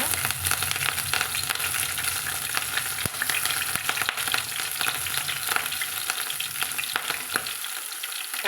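Ponnanganni greens and dried red chillies fry in a pan with a steady, dense sizzle and crackle throughout, a few sharp pops standing out, with no talking.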